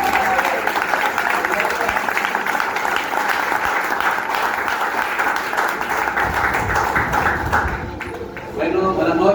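A church congregation bursts into sustained applause to welcome the pastors, a dense, loud wash of clapping that thins near the end, with voices mixed into the crowd.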